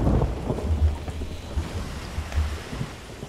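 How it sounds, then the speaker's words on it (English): A thunderstorm at sea in the video game Sea of Thieves brings deep, loud rolling thunder over steady heavy rain, with no talk. "We might be in a storm."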